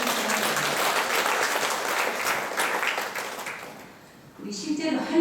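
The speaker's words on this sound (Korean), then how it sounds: "박수 쳐주세요" Full room applause at a Korean Vincentian training gathering: thick, sustained clapping that fades out after about four seconds, followed by a voice speaking.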